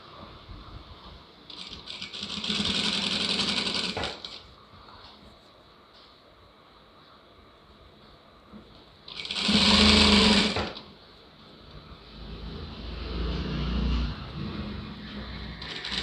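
Two bursts of sewing machine stitching on a lined blouse, a steady whirring run of about two seconds each, fairly close, with quieter handling and room noise between them.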